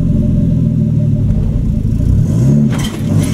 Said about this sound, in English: It's because the first gear is straight cut. So it'll make a whining sound.